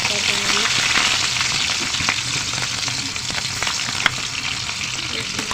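Bitter gourd frying with garlic in a pan, a loud, continuous close-up sizzle and crackle with occasional stirring clicks and no clear talk.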